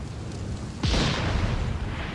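A lit bundle of dynamite detonates in the video game Assassin's Creed Syndicate, one sudden booming blast with a deep falling rumble that trails off into a roaring wash of debris and noise.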